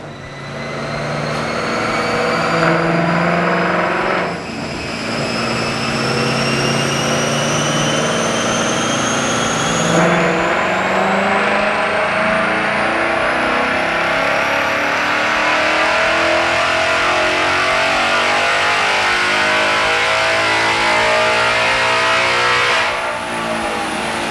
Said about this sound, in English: We just made our first dyno pull in the new 2024 Mustang GT.